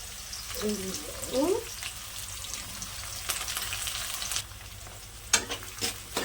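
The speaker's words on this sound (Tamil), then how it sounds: "கருவேப்பிலை போட்டு நல்லா வெங்காயம் செவக்க வதங்குற அளவுக்கு வதக்கிக்கலாம்" Small onions and curry leaves sautéing in a pan, a soft steady sizzle with intermittent scraping stirs and a few louder clatters; a voice is faintly heard early on.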